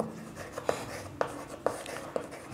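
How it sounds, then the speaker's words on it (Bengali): Pen or pencil writing on paper while working a Class 6 percentage math problem, heard as soft scratchy strokes with four sharper tapping accents spaced about half a second apart, close and fairly quiet. "তাহলে লিখব এখন"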